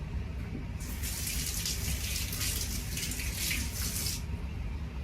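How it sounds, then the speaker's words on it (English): A kitchen tap runs steadily while hands are washed, a broad hiss of water that swells for a few seconds and then drops back to a low background hum. "And so I'm just going to wash my hands."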